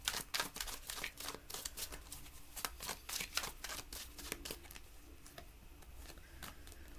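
A deck of oracle cards is shuffled by hand in quick riffling flutters, a fast run of soft crisp slaps that thins into quieter rustling, close and without talk.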